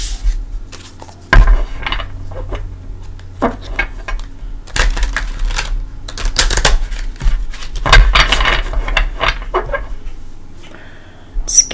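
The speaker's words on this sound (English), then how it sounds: "I'll give them a shuffle or two." Tarot cards riffle and slap in several quick bursts of crisp, papery rustling, close by, with soft handling noises between them.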